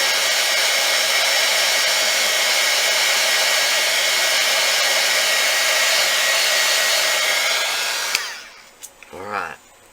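A heat gun blows on polymer clay pendants with a loud, steady whooshing roar that cuts off near the end, followed by brief talking.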